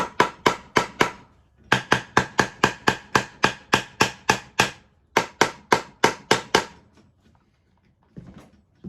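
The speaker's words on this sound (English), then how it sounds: "this selector should now come out with a little tap" Hammer taps ring out in fast regular bursts while a gearbox selector is driven out during the teardown of a Peugeot 107 / Toyota Aygo gearbox with a first-gear fault, about twenty sharp close metallic knocks in three runs, then a faint rattle.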